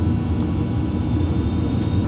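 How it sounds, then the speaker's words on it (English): Fokker 50 turboprop propellers spinning up before taxi to the runway: a loud, steady, close low-pitched drone and rumble with a thin high whine running through it, continuous throughout with no voices. "we would soon start the propellers and taxi towards the runway for takeoff"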